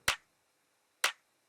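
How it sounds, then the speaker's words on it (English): Two dry, unprocessed electronic clap hits in a drum mix, sharp and short with no reverb tail, spaced about a second apart in silence. "One that sounds like this has no processing at all."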